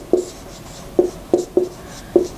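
Pen strokes on paper while a Sanskrit numeral is written out, five short scratchy taps spaced irregularly, close and quiet with no talking.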